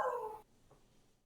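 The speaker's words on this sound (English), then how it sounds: "Sorry, there's a dog over here." A dog barks nearby, giving a single short, loud bark-like yelp that stops abruptly, followed by quiet room noise.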